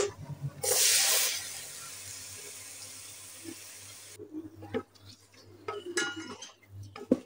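Small mola fish dropped into hot oil with fried onions give a loud sudden hiss and sizzle, which settles into a steady frying crackle before light clinks and stirring noises close to the pan.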